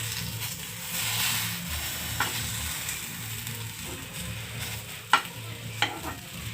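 Eggplant fries in a pan with a steady sizzle while it is stirred and turned, scraping and shuffling of the pieces with a few sharp clacks of utensil against pan near the end.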